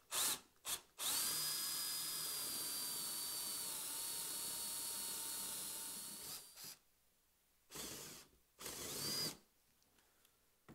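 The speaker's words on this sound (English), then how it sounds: "We're going to hog out a majority of the waste with this ½ inch drill bit" A power drill with a half-inch bit bores into wood to hog out waste for a mortise, running in one long, loud whine, then stopping and restarting in short bursts, heard close with no talk.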